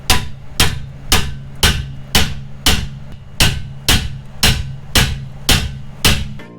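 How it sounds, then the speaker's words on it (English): A metal hammer strikes a car suspension part about eleven times in a steady rhythm, each blow loud and close with a ringing decay, no talking. "let's see if we can't hammer this thing out"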